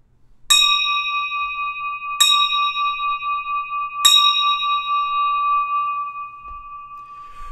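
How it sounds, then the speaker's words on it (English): A bell rung before Sunday morning prayer in a church service gives three clear, ringing strikes about two seconds apart, each tone sustaining and slowly fading, with nothing else heard. "The bell."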